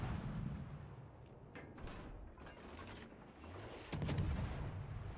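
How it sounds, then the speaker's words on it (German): Naval gunfire from the Khabarovsk destroyer in World of Warships Legends, a dense roar of cannon blasts and mechanical clatter, with a heavy boom near the end. "die Khabarovsk hat dort einmal auf uns geschossen"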